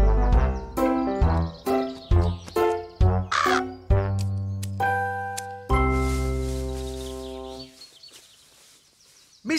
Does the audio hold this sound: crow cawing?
yes